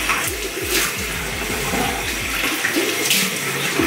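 Tap water running steadily into a sink during a morning face rinse, a close, continuous splashing and gurgling wash with no voices.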